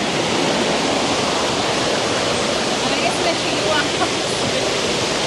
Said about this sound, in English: The water up here, so the river come down.